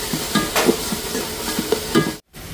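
Food mixed in a pan with salt and coriander leaves, giving a sizzling frying hiss under repeated scraping stirs that come in short rhythmic strokes, close up, ending in a brief gap of silence.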